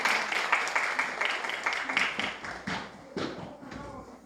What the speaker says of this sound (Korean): 우리 감사 박수 한번 할까요?